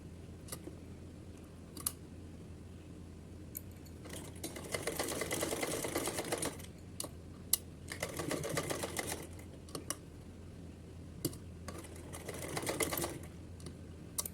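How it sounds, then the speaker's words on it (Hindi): A sewing machine stitches elastic onto a small cap for a Kanha ji deity costume, running in three steady whirring stretches of a few seconds each. Light clicks come between the runs, heard up close with no talking. "तो चलिए इसको ऐसे यहाँ पर सिलते हैं।"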